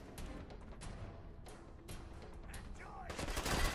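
An explosion and combat in the video game Fallout 4: a string of sharp, gunfire-like blasts and thuds in quick bursts, fairly quiet, with a louder burst of noise closing it out.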